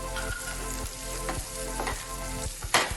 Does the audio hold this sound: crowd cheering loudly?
no